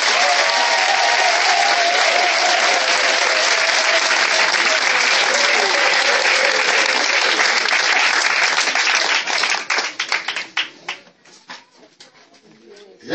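A church congregation cheering with sustained loud applause and crowd voices, fading into scattered individual claps near the end.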